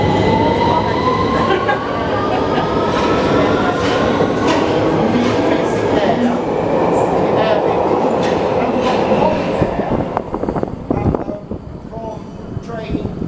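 London Underground train pulling out of Euston station, a loud sustained rumble with clattering wheels and rising whine that fades toward the end, with people talking faintly underneath.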